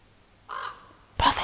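A raven sound effect gives two harsh croaks, the first shorter and rougher, the second louder and sharper, close and clear over a quiet, faintly humming background.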